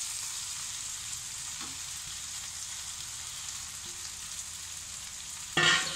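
A tomato mixture fries in a pan for Bengali jhal suji upma, giving a steady, even sizzle that runs throughout, then a brief louder burst near the end as roasted semolina is tipped in.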